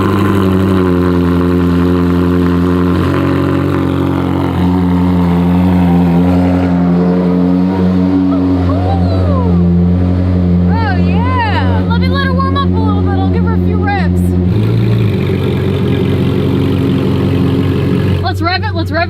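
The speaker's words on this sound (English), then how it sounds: "Let's rev it and hear what it sounds like." A Ferrari 458 engine fitted with F1 race headers idles loudly with a strong harmonic drone, then rises and falls through revs close by, while people talk and react over it.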